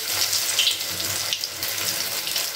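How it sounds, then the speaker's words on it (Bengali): Lentil cakes (dhoka) made from red lentils frying in a pan of hot oil, giving a steady, close, even sizzling hiss with no talk. "এবার আমি ধোকাগুলোকে ভেজে নিচ্ছি। তার জন্য আমি এখানে কড়াইতে তেল গরম করতে বসিয়ে দিয়েছি।"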